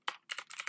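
Quick bursts of keystrokes on a computer keyboard, close and crisp: one short cluster of taps, a brief pause, then a denser run of clicks.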